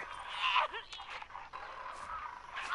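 Dogs whimper and yip in the Fallout 76 game, a few short high whines under game noise and a speaking voice.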